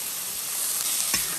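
Chicken stir-frying in a wok with soy sauce gives a steady, bright sizzle and hiss, broken by a single scrape of the spatula.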